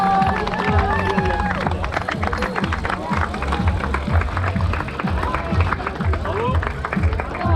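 A crowd claps and cheers at night as riders reach the finish of the 2023 Paris-Brest-Paris cycling event, a steady wash of applause mixed with crowd noise and voices talking over it.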